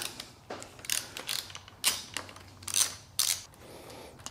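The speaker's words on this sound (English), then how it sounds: "to do that you need a 5mm Allen on the end to remove this bolt" A 5mm Allen key works a hand guard bolt loose on a Yamaha Tenere 700 motorcycle, giving a series of close metallic clicks and ratcheting scrapes in uneven bursts, with no speech.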